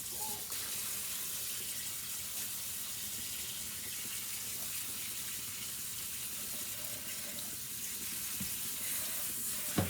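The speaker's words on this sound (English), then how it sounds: "Put the beans in there and wash them" Tap water runs steadily into a sink as beans are rinsed in a strainer for chorizo chili, a continuous close hiss and splash that holds evenly throughout with a small clunk at the very end.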